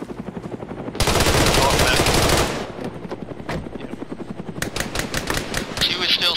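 Gunfire in the military game Arma 3 opens with a loud sustained burst of automatic fire, then continues as spaced rapid shots and shorter bursts, with a helicopter-like drone underneath.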